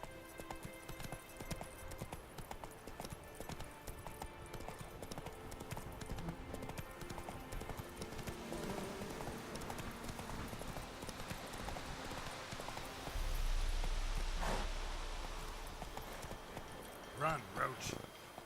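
Roach the horse galloping in The Witcher 3: Wild Hunt, rhythmic hoofbeats clip-clopping steadily under voices, with a louder rumble and sharper thuds toward the end.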